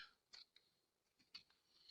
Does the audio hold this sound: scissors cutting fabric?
yes